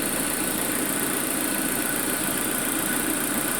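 A cold Peugeot 307 car engine idling after sitting unused for a long time, a steady, loud, continuous running drone that stays even throughout with no talk.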